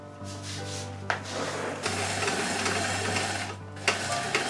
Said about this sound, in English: we will grate this zucchini.